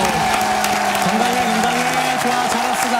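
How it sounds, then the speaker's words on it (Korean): Brief applause from a small group in a Korean radio studio, quick scattered claps heard under a steady tonal hum or background music, with some voices mixed in. "야, 박수!"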